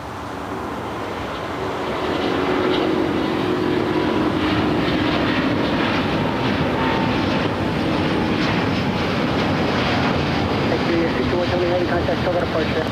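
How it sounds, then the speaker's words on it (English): A United Airlines Boeing 787-10 Dreamliner landing on runway 25 left at LAX, a broad roaring jet rush that swells after a couple of seconds and holds steady and loud, with some voices faintly underneath. "787-10 Dreamliner about to touch down"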